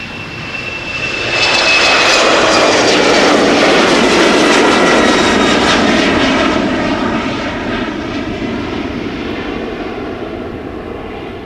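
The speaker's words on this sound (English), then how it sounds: "Emirates flight 146 to Dubai is going to take off from runway center" An Emirates jet airliner takes off from Amsterdam Schiphol, its engine roar swelling to a loud sustained rumble and whine before slowly fading into the distance.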